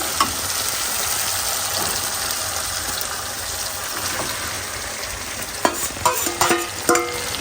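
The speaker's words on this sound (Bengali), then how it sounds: "এখন এটা হচ্ছে কষাবো, তারপরে হচ্ছে মাছ দিয়ে দেবো।" Spice masala sizzles steadily in a hot pan, a continuous loud frying hiss, with a few sharper spatters and stirring clatters near the end before fish goes in.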